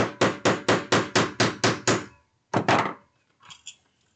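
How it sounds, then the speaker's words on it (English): A steady series of about eight close hammer taps setting a binder ring into place, a short pause, then two heavier knocks and a couple of faint clicks. "and then I can just hammer it into place"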